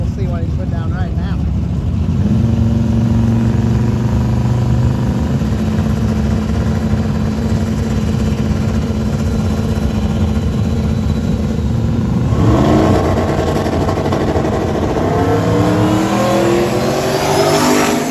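A Ford Fairlane no prep drag race car roars off the line and accelerates hard, loud engine sweeping upward and fading into the distance, followed by more engine noise as another run begins.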